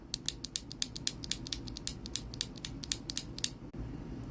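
Repeated presses of a stock, unlubricated Outemu Panda mechanical keyboard switch give a quick, even series of sharp clacks with a scratchy, pingy edge. They are close and clear, about a dozen strokes with no talking.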